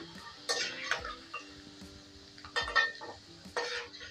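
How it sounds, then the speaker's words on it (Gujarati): Potato pieces frying in hot oil in a pan for a tindora-potato dish, a quiet sizzle punctuated by several scraping stirs and light utensil clinks. "તો બટેકા આપણા તળાઈ ગયા છે."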